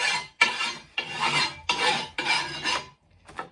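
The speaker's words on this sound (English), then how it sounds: "Just wants the edge filing off a little bit." A hand file rasps along the edge of a metal body panel for an Austin Seven special, four long steady strokes close by, then a short softer pass after a pause.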